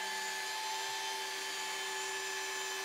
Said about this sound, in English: The polishing machine is moved over the paint with steady, even movements